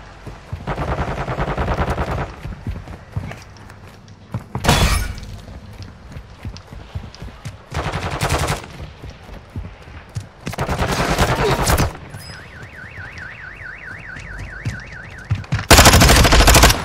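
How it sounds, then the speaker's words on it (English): Bursts of machine-gun fire in a shooter video game, several loud separate volleys broken by quieter gaps, with some electronic warbling tones in between and no talk. "That was terrible shooting by me."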